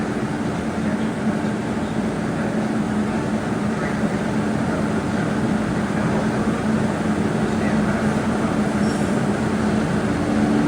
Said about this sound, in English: Another Governor Center bound train right behind them.